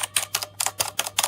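Blue-switch mechanical keys on a Redragon Kumara K552 TKL gaming keyboard clicking in short bursts of rapid, crisp clacks, about six quick presses in a row, close and clear with no talk.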